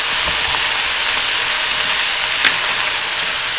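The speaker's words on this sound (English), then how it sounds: "you see how that's seared?" Meat searing in a hot pan for puchero, seasoned with black pepper: a loud, steady broadband sizzle and crackle running without a break, close up, with a brief louder pop partway through and no talking.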